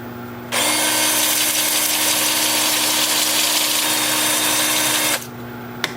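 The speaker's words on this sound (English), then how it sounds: "The lathe will be spinning in reverse at 350 RPM, and I'm starting with 80 grit." A wood lathe spins in reverse at 350 RPM while 80-grit sandpaper works a cracked turning, making a steady broadband rasp over a low motor hum for about five seconds before stopping.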